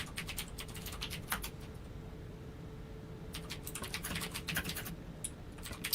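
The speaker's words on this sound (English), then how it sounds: "I can hear Iron typing away on his keyboard" Keys clack on a computer keyboard in quick, irregular bursts during an online game playtest, faint and close, with brief pauses between runs of typing.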